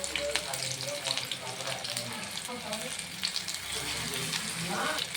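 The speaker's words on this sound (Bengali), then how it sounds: "তারপরে আমি এটাকে ভাজবো। একটা আমি সব কটা দিয়ে দেবো তেলের মধ্যে।" Paneer tikka pieces coated in a thin batter fry in hot oil with a steady, busy sizzle. Faint clinks of stirring and some running water sound through it, and there is no talking.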